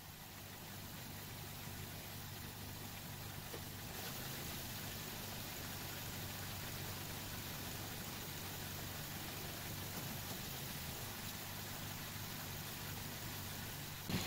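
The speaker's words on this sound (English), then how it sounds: "I turn on the car and while holding the brake, I just shift it between reverse and drive" A used car's engine idles steadily while the transmission is shifted back and forth between reverse and drive with the brake held, a continuous low rumble with a slight rise in level partway through.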